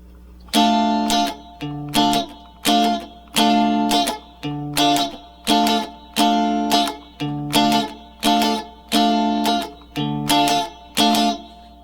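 A guitar strums chords in a steady repeating pattern for a song, about a dozen bright ringing strokes with short gaps, loud and close.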